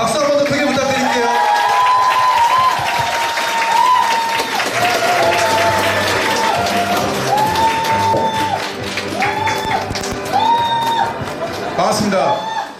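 A crowd applauds loudly and steadily at a company presentation as a Korean CEO is welcomed on stage, with some cheering and a voice speaking over the clapping until it fades near the end.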